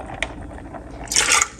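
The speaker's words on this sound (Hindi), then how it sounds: "पानी ज़्यादा नहीं डालेंगे," Water poured into a pan of lentils: a soft splash and trickle building to a brief, bright gush, close by over faint kitchen background.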